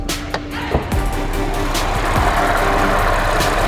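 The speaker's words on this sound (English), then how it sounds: "There it is, supercharged V6." Supercharged 3.0-litre V6 engine of a 2012 Audi A6 3.0T idling steadily under an open hood, a smooth, even hum heard close by after a couple of brief knocks.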